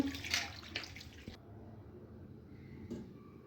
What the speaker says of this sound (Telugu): కిలో చికెన్ తీసుకొని కడుక్కుంటున్నాను వాటర్ పోసి